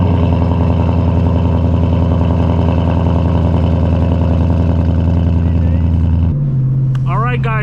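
Car engine droning loudly and steadily with a buzzing, sustained tone while trying to drive out through snow, then dropping abruptly to a lower pitch near the end as a voice speaks over it.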